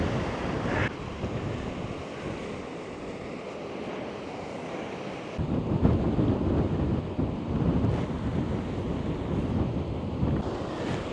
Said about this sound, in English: the wind is blowing like you wouldn't believe